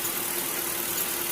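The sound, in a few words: Mercedes S430 W220 engine idling after first start-up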